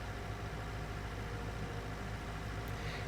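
Tractor engine idling steadily in Farming Simulator 20, a constant low mechanical hum with a faint rumble that holds evenly throughout, with no talk.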